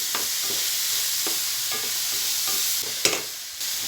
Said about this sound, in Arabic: بعدين البسله، برضو هقلب برضو اهو كده